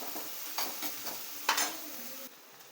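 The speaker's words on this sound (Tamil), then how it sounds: "நல்லா வதக்கிக்குவோம் வெங்காயத்தை." Finely chopped shallots are sautéed in a pan, heard as a quiet, close sizzle broken by several short spatula scrapes and stir strokes, the sizzle falling away abruptly near the end, with no speech.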